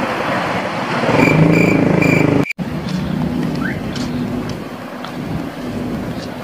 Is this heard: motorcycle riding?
yes